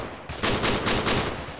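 Gunfire in the video game Arma 3: a short burst of several rapid, loud shots, a couple of clustered bursts in quick succession, close and dense.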